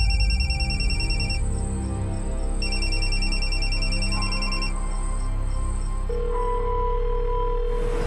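A phone rings during an attempted call, with repeated electronic ringtone pulses followed by a steady tone, heard alone at moderate volume.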